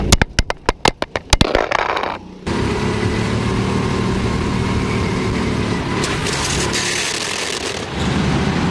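Go-kart engine running at a race track, preceded by a quick string of sharp bangs and knocks, then a steady loud mid-pitched drone from close range that carries on to the end with no talk.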